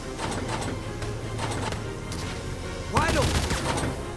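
Gunfire in the war strategy game Valkyria Chronicles 4, with a steady run of sharp repeated shots under a constant backdrop, then a louder burst of crackling blasts and whirring near the end.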